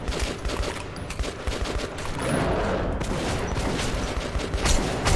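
Rapid bursts of gunfire from a weapon in the shooter game Metro 2033 Redux, a dense, sustained volley of loud shots running the full few seconds with little pause.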